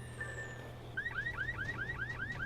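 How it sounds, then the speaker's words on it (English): A car alarm goes off in the video game The Secret World, on the road to Kingsmouth, set off by jumping on an abandoned car: repeated rising whoops in a steady rhythm, loud and close over a low engine-like hum. "Jump on abandoned cars on the road to Kingsmouth to trigger their alarms"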